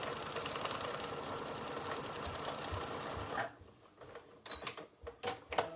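A sewing machine stitches fabric for a foundation paper-pieced quilt, a steady fast mechanical whirring that runs loud and close for a few seconds, then stops, leaving scattered soft clicks and handling noises.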